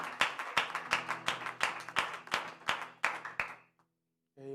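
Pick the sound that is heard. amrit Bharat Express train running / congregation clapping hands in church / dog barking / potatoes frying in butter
congregation clapping hands in church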